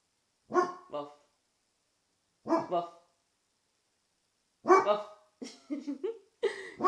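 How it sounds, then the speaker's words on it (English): A dog barks in short bursts, two single woofs and then a quicker run of barks, close by in an otherwise quiet room. "There's a dog."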